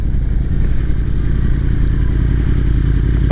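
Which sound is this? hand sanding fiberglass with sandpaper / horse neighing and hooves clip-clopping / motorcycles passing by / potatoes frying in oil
motorcycles passing by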